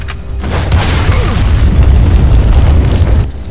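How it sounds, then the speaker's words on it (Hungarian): A loud, sustained explosion blast in Resident Evil 4, a deep rumbling boom that fills about three seconds before cutting off, heard alone without any talk. "Ez meg mindjárt robbantani is fog amúgy."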